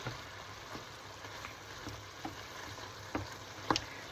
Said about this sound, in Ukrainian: смажите його на пательні. Як роблю це я ось якраз зараз, так? З цибулькою, з часничком